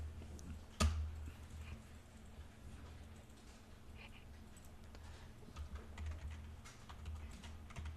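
Computer keyboard keys tapped at a quiet desk while a command is entered, with one sharper click near the start and then soft, sparse key presses over low room hum.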